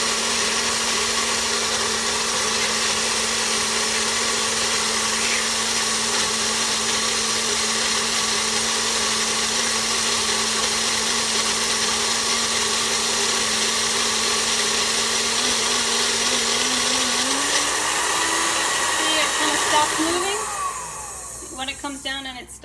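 A kitchen mixer fitted with a flat blade whips a lime jello cheesecake mixture for a keto dessert, a steady loud motor whir that runs continuously, then slows and winds down near the end with a few clanks.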